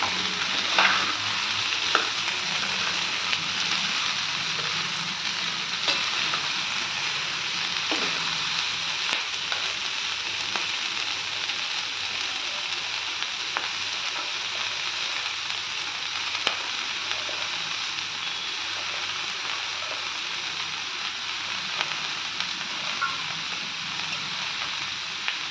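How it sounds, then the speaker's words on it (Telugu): Cauliflower pieces fry in a pan with ginger-garlic and onion paste, a steady crackling sizzle with occasional scraping stirs running throughout, close and even. "మంచిగా తిప్పుకోవాలండి, అన్ని ముక్కలకి అల్లం వెల్లుల్లి పేస్ట్ ఉల్లిపాయ పేస్ట్ అంతా పట్టాలి."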